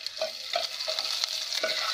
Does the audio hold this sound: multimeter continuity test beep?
no